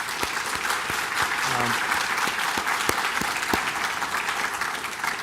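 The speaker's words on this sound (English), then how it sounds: "Let's give them a round of applause, please" Audience applause at a construction and welding certificate ceremony, a steady wash of many hands clapping that holds for about five seconds, with a voice briefly audible partway through.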